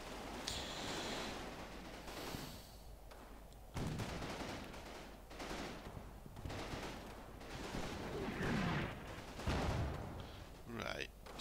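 Artillery and small-arms fire in the Combat Mission: Battle for Normandy wargame, a sustained barrage of overlapping gunshots, bursts and dull booms that rolls on continuously, fairly distant and mixed with rustling, with no speech heard.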